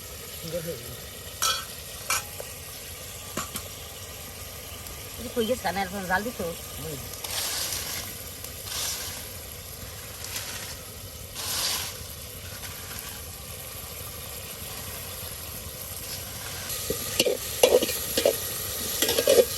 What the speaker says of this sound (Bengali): আপনার দাদি কিন্তু মশলাটাকে ভালো করে কষিয়ে নিচ্ছে